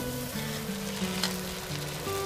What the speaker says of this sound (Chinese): 面跟它下锅啊，要搅拌一下，否则它会粘锅